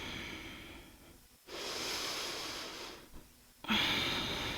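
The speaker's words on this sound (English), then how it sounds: "Exhale forward and down." Slow, steady breaths during a yoga class: a long soft exhale, a brief pause, then another airy breath, close and fairly quiet with no talking.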